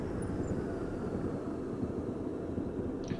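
A diesel railcar engine in Diesel Railcar Simulator rumbles steadily at a low pitch as the throttle drops on a mountain pass line, a constant moderate drone with no talk.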